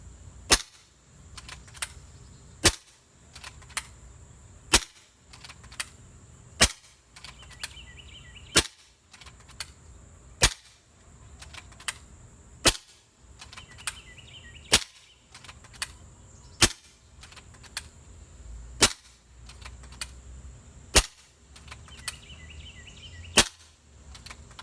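A Kral Puncher Breaker air rifle fires a long series of sharp, clean shots at a steady pace of roughly one every second or two, each crack close and distinct over a quiet background with faint handling noise between them.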